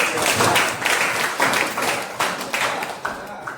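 Classroom applause from a group of students, a steady patter of many hands clapping in uneven bursts with a few swells, fairly close and loud, with no talk over it.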